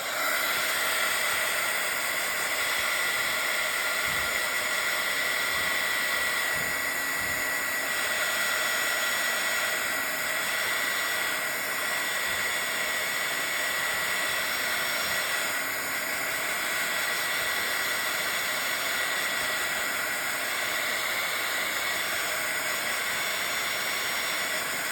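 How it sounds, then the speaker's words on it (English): A handheld dryer blows steadily for about 25 seconds to dry wet paint on a Bible journal page, a constant loud airy hiss and whine with small flutters as it moves, no voices. "let me dry that real quick before I put her there because it's gonna smear"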